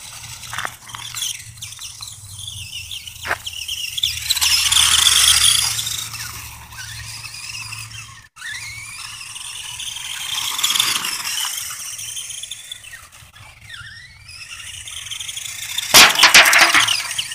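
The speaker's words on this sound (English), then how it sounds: "I can hear the motor sputter so much." A Duratrax Evader ST Pro RC truck with a sputtering electric motor, heard as uneven whirring, ratcheting and squealing bursts that rise and fall, with a loud surge near the end.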